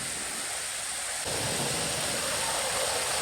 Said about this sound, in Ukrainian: Якась хуртовина починається і дощ